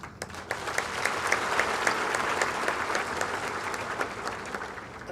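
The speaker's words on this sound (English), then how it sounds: "You are clapping too early" An audience at an education and leadership congress claps steadily as a sustained wash of applause, starting abruptly and holding loud throughout without voices breaking through.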